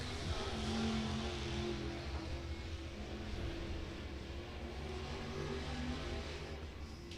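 The number 3 race car runs warm-up laps at Volunteer Speedway during an American All-Star Series hot laps session, its engine a steady, fairly distant drone that swells and fades slightly as it circles the track.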